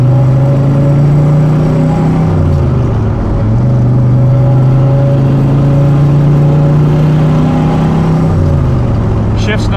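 A 1971 Chevrolet Corvette engine drones loudly from inside the car while driving, holding a steady low hum that dips briefly twice as the driver shifts gears.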